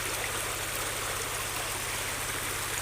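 A river stream flows steadily past a picnic spot in Quezon, a constant rushing wash of water with no pauses.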